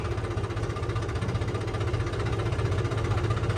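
A tractor engine idles steadily at a weighbridge during wheat season, with a low, even throb and faint vibration, continuous throughout, with no talking.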